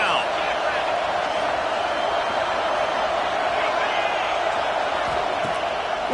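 Dense stadium crowd roaring and cheering at a Colorado State college football game as the defense takes the field, a steady, loud wall of crowd noise throughout with no let-up.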